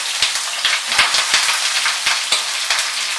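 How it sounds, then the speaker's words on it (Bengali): Long-cut pieces of a medium eggplant frying in oil left over from frying potatoes, a continuous loud sizzle with crackling spits and pops scattered throughout, no voices. "আলু ভেজে নেওয়ার পরে ওই তেলেই আমি লম্বা লম্বা করে টুকরো করে কাটা একটা মাঝারি সাইজের বেগুন সেটাকে ভাজতে দিয়ে দিলাম"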